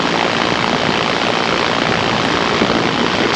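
A light airplane making a low flyby on a gusty day with shifting wind, a loud, continuous roar of engine and rushing wind that holds steady for a few seconds, no voices.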